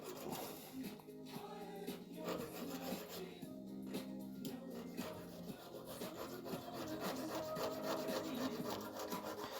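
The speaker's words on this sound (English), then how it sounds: "These little needle files are really, really useful for stuff like this." Needle files rasping on a metal lever picking tool, a close, steady series of short back-and-forth scraping strokes with brief pauses between passes.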